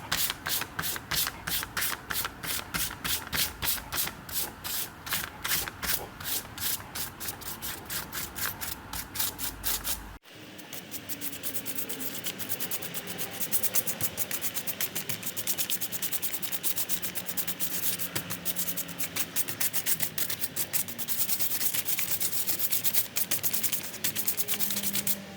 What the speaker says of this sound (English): I finished going all the way over it, doing the dry brush of the darker gray